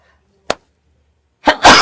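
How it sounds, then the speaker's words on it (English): A person sneezes in a quiet indoor talk setting, one sharp burst followed by a second louder explosive sneeze, close and abrupt against near silence. "every sneeze right on time"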